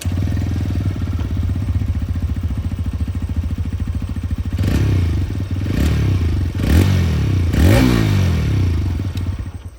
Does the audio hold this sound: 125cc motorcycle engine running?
yes